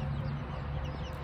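A broody hen in a coop gives a low, steady growling sound, close and continuous over a faint background hum.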